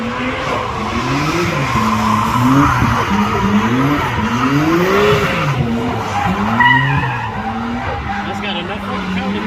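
A turbocharged LS-swapped BMW E36 drifts sideways, its engine note rising and falling with wavering revs while the tires squeal and skid continuously, with people talking over the loud, close run.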